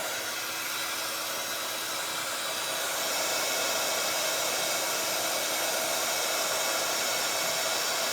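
Heat gun blowing a steady, loud whoosh over embossing powder on black mirror card, a continuous hot-air roar that holds for the whole stretch with no talking.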